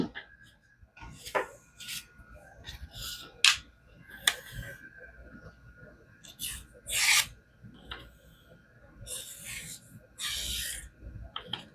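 Knife steel scraping across a King whetstone in a series of irregular rasping strokes, close and fairly quiet, with short pauses between passes and no talk.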